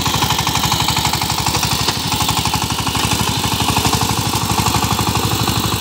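A power tiller with a 25 engine harrowing muddy land: a loud, close, rapid and even engine thump that runs without a break, with no voices.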